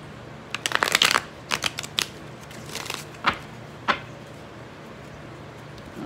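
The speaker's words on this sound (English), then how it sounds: "I'm gonna shuffle three more times." Tarot cards are shuffled in a quick flurry of riffling snaps, then a few separate crisp flicks spaced out, fading into quiet room tone.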